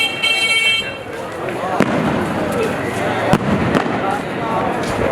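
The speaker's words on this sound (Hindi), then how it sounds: "वहाँ से पहुँचने से पहले ही ना आतिशबाजी स्टार्ट हो गई है" Fireworks burst continuously at a Guru Nanak 550th birthday festival, with dense crackling and several sharp bangs standing out over a steady roar of crowd noise and voices.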